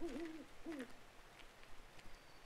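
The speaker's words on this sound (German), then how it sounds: "Du hörst hier aber eine Eule." In the video game Days Gone, an owl gives two quick hoots close together at night over faint ambient background, then quiet.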